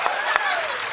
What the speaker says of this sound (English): Round of applause for Ben Starr.